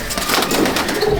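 A pair of Kaldum pigeons coos softly at a loft in Chandannagar, a steady low rolling coo running through the whole short moment, close and continuous.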